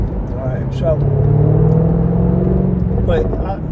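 Rumbling engine and road noise from a 2021 Jaguar F-Type R convertible on an everyday drive, loud and close, with a voice talking over it.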